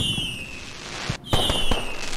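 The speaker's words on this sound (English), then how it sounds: "Oh, nice. Fireworks." Fireworks burst in the open-world game Black Skylands after an island is liberated, several sharp pops and crackling booms over a steady background bed of game music and whistling tones.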